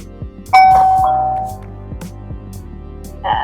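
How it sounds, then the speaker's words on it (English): A camera doorbell sounds a single loud, clear chime that rings out and slowly decays, with some handling knocks and a brief tone near the end. "And here is the doorbell itself."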